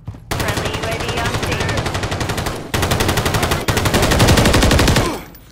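In Call of Duty: Modern Warfare III multiplayer, loud automatic gunfire rattles in long, dense bursts with brief gaps between them, close and dominant, and then cuts off at the end.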